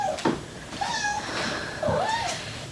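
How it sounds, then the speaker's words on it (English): Two distinct cat meows, the second longer with a rising-falling pitch, heard up close with a little quiet background noise between them. "that's my kitty."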